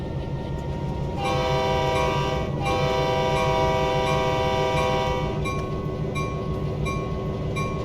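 A Caltrain freight train runs in a railway simulator game with a loud, steady rumble. A long sustained horn blast sits on top of the rumble through most of the stretch.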